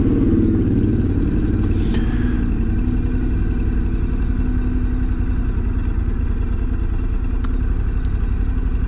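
A Ducati Scrambler Sport Pro 1100 motorcycle rolls at low speed near Alki Beach, Seattle, its engine a steady low rumble with constant wind buffeting throughout and a couple of faint clicks.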